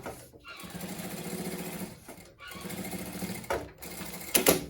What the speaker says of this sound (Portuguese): E vou seguir, ó, a mesma costura que eu fiz aqui na primeira vez, tá?